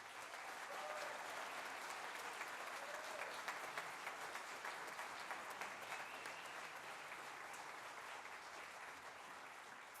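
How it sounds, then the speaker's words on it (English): Steady applause from a large audience at a high school jazz band spring concert, sustained clapping throughout at a fairly distant, even level. "Let's give these seniors a round of applause, please."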